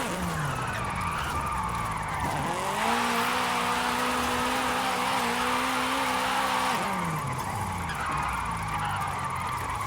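A 1994 Honda Prelude Si on an all-wheel-drive drift tune in Forza Horizon 5 revs hard and slides with sustained tire squeal, the engine pitch dipping and climbing through a long steady drift in loud continuous game audio.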